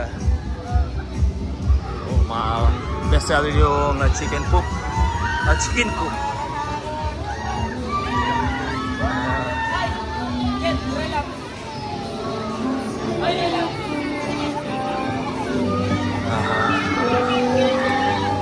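Busy crowd noise at Torres Farm amusement park after a parade, with children shouting and general babble mixed under nearby talking voices, steady and lively throughout.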